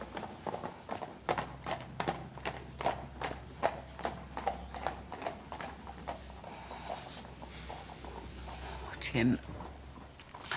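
Horses' hooves clip-clop in a steady, brisk rhythm on a hard surface for several seconds, then ease off, and a short whinny follows near the end under a low background hum.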